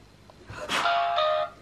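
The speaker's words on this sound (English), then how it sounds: "we think that's the alarm noise" A small personal alarm from a children's science kit, switched on from its side, gives a bright electronic tone that rises out of a faint click and holds steady for about a second, loud and close.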